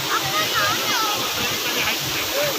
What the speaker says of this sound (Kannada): ಹಿಂಗೆ ನೀರು ಬರ್ತವೆ ಇಲ್ಲಿ.